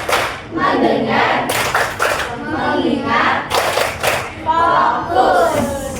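A class chants a numbered clapping routine, with bursts of rhythmic hand claps between the spoken counts. Loud voices carry the chant and the claps come in short groups.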